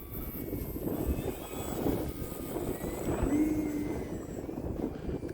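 At half throttle, an E-flite Extra 300 3D RC plane with a 1.3 m wingspan hums continuously overhead. Its propeller drone holds steady with slight swells and windy noise, carrying on for several seconds without any voices.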